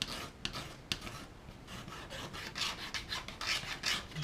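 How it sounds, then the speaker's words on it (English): Scalpel blade dragging around a round model railway yard-light pole, shaving off small slivers; close, dry scraping strokes repeating irregularly, with a few sharper catches, and no voices. "Just take little shavings off so that it is no longer a perfectly round pole."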